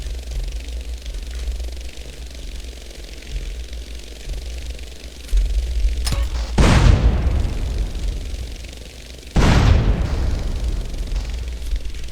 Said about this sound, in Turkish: Bak şurada bir tank daha var. Onu da patlatalım.